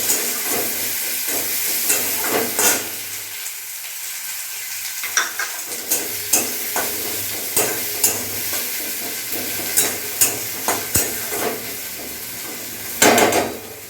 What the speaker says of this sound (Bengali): পেঁয়াজটা আমার ভাজা হোক